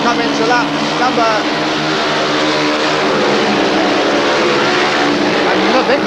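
Speedway motorcycles race flat out with throttles wide open at a 1977 World Team Cup meeting, a loud continuous engine roar with rising and falling pitch as bikes pass, under a commentator's voice.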